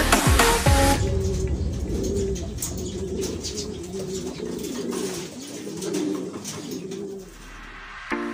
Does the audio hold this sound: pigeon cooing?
yes